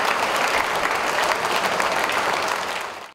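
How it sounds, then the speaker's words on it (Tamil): A crowd gives a big round of applause to welcome a speaker at a Tamil Pongal stage event, dense continuous clapping throughout that drops off abruptly at the end. "அன்னபாரதி அவர்களுக்கு ஒரு பெரிய கரகோஷம் கொடுத்து"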